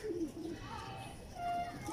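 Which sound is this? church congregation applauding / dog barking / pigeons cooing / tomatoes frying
pigeons cooing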